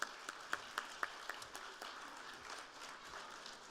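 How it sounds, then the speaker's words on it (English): Scattered clapping from a crowd at a youth sports presentation, with a few sharp claps standing out early before fading into a soft, diffuse patter of applause. "Give them a round of applause"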